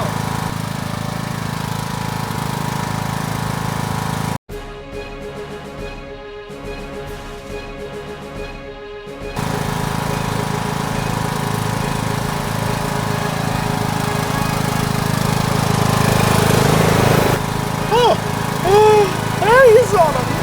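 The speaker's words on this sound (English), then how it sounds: "always make sure your lawnmower is off before you dismount it" A ride-on lawn mower engine drones loudly and steadily, briefly interrupted by a quieter stretch, with voices talking over it near the end.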